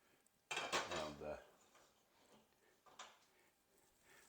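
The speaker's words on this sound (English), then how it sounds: "Take the lid off." Metal lid lifted off a cooking pot with melted cheese inside, a sharp close clatter and ringing scrape, then a few softer clinks of metal and cookware.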